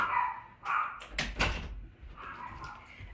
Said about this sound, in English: I'm going to go close my door really quick.